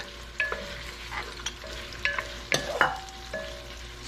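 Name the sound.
onion frying, stirred in pan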